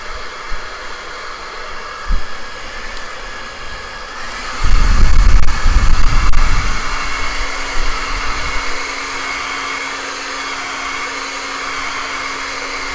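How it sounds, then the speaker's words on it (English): A hair dryer roars steadily on high heat, held very close to drying acrylic paint, with a louder gusty stretch in the middle as the airflow hits something nearby. "I'm going to hold the dryer very close, and I'm using really hot air on high speed"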